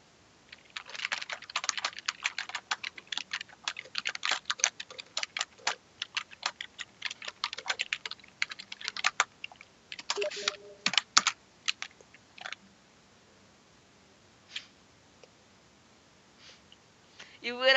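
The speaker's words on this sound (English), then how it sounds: "before you shoot, I need to type something to you." Quick, light keystrokes clatter on a computer keyboard in bursts of rapid typing, fairly close and quiet, tapering into a few isolated clicks toward the end.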